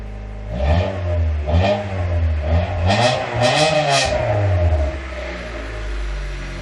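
A Monte Carlo SS engine revs repeatedly, rising and falling in several throaty bursts close by through its exhaust, then settles back to a low idle.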